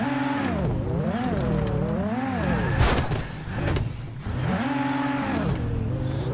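A car practicing drifts and spinning out, its engine revving up and down in repeated swells. A sharp, noisy burst cuts in midway before the revving climbs again, loud and close throughout.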